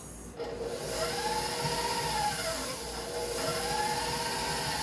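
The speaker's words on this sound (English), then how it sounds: "we will go ahead and scrape it. And then continue to mix." A spatula scraping the sides of a mixing bowl and stirring cake batter by hand, heard as continuous close rubbing and swishing strokes with soft scraping sweeps, no voices.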